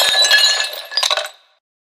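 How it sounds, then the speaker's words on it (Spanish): Glass shattering with bright clinking fragments for about a second and a half, loud and close, then quickly dying away to silence. "Después se escuchó un vaso romperse."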